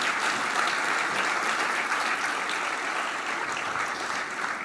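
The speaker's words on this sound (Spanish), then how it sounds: "Fuerte ese aplauso de alabanza al Señor." Strong congregation applause of praise to the Lord in a church service, sustained dense clapping from many hands, loud and even throughout with no talking.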